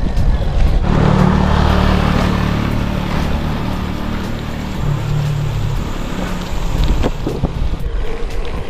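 Steady wind rushing and buffeting against the microphone, a constant low roar throughout with no voices.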